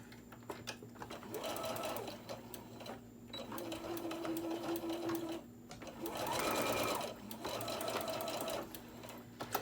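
A sewing machine back-stitches a zipper pouch in bursts of steady rapid whirring, stopping and restarting several times, with brief quiet gaps and faint room noise between runs.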